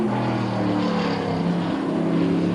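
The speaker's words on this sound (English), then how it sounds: "Massive growl from that Roush engine." A Roush V8 racing car engine at the 1998 Eurocar V8 Championship, Pembrey Circuit, growling in a steady, loud drone with a dip and rise in pitch as it passes, no talk.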